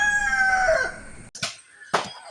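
A rooster's drawn-out crow fades away, followed by two short, sharp clucks from nearby parent stock chickens in a pen.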